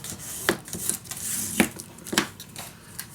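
Paper is burnished down on a Prima Darcelle mini album, giving soft close rubbing and scraping strokes with a few light taps, quiet and without speech.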